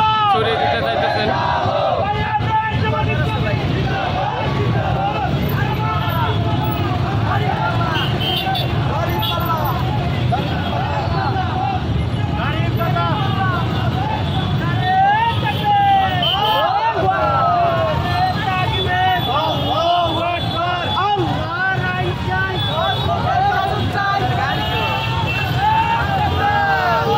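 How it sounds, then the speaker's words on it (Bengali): A Jamaat-e-Islami election rally in Araihazar: motorbikes and cars roll past one after another while a dense crowd chants slogans, making a steady, loud wash of engines, voices and hubbub that stays constant throughout. "তারা কিন্তু চলছে একের পর এক বাইক কিন্তু তারা আছে এবং গাড়ি দিয়ে তারা কিন্তু স্লোগান জানাচ্ছে"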